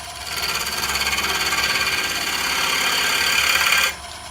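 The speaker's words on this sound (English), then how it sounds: "We are using a round carbide cutter. One that I got from Easy Wood Tools." A round carbide cutter from Easy Wood Tools shears against a spinning camphor wood bowl on a lathe, a steady close scraping rasp over the lathe's hum that runs for about four seconds, then cuts off abruptly.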